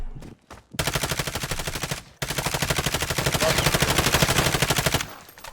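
Sustained automatic gunfire from Call of Duty, a dense rapid burst after a few short shots, a brief pause near two seconds, then another long loud volley that cuts off near the end.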